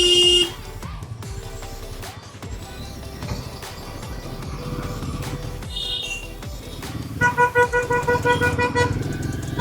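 Busy road traffic on a Bangalore-area highway, engines rumbling with several car horns honking in short bursts, ending in a run of rapid repeated toots, loud and close with no one speaking.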